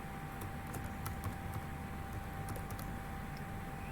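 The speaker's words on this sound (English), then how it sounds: "So I'm changing your name text with my name by simply typing." Soft, steady key tapping on a computer keyboard while a name is entered into a Google Docs template, faint clicks running continuously over a constant background hum.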